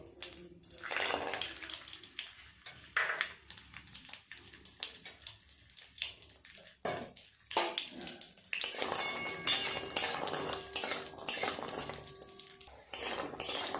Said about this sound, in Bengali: বড়িগুলো আগে ভেজে নেব।